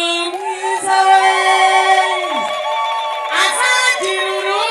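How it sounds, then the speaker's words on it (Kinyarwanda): At a Rwandan wedding, guests again ululate impundu for the bride. Loud, sustained, high, trilling tones from several voices overlap, with brief dips between breaths and a brighter surge near the end. "nimumwongere impundu"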